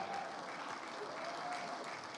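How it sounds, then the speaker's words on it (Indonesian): Broad, steady applause from an audience at a Jakarta political gathering, a dense wash of clapping heard at a distance without pause. "tepuk tangan untuk Al-Ustadz Suswono"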